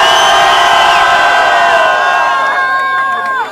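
At a rap battle final, a crowd yells and cheers in a loud, continuous mass of voices, with shrill whoops rising near the end.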